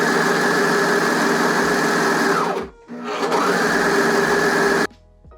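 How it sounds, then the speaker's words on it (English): A sewing machine stitches a black bikini in two steady, fast whirring runs, pausing briefly between them, close and loud with no talking. "So I am sewing up a black bikini"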